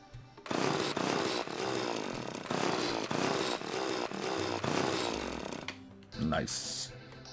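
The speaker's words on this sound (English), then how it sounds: "let's go for the cobalt drill" A cobalt drill in Terraria hard mode, giving off a loud, buzzing, chainsaw-like whir in repeated bursts, then a short pause and a few softer effects at the end.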